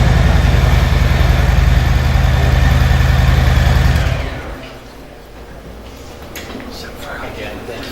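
Harley-Davidson Softail motorcycle engine idling nearby, a loud steady low throb that cuts off partway through, leaving quieter room sound and a few faint noises.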